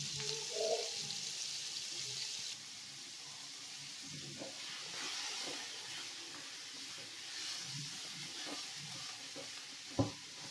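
Kofta browning in a pan over a bed of sliced onions with a little sugar, a steady, soft frying hiss that runs the whole time, with a faint scrape or two and a sharp tap near the end.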